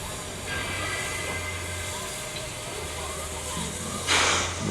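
A museum train hauled by a diesel locomotive at a railway museum in New South Wales rumbles steadily at moderate distance, with a low engine drone and faint hiss throughout and a brief burst of louder hiss near the end.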